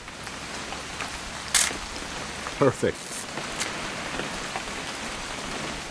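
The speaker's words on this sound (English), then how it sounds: "It's gonna rain the whole weekend, isn't it?" Steady rain falls in the video game What Remains of Edith Finch, a constant wash with a few brief louder knocks, under a short line of speech.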